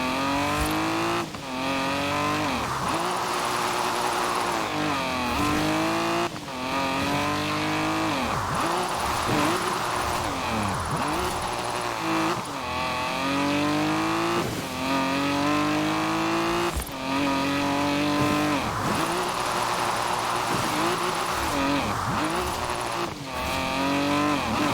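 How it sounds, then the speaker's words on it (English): Virtual car in Forza Horizon 4 drifting with its back end thrown out, engine loud and constantly revving up and down through gear changes, with intermittent tire squeal, continuous throughout and without talk. "Why don't you take a nice morning drive? And if you want to throw the back end out along the way"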